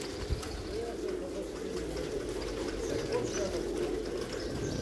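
Low, rolling coos from double-crested pigeons fill a loft in a steady, moderately quiet murmur, with a faint voice in the background.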